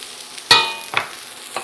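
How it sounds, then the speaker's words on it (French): Onion sautéing in hot oil, a soft sizzle broken by two or three sharp scraping stir strokes. "on fait revenir notre oignon"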